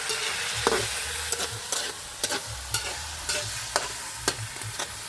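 Chicken with karibang and sitaw stirred in a sizzling pan, a steady fry hiss under repeated sharp scrapes and clacks of the spatula, close and alone.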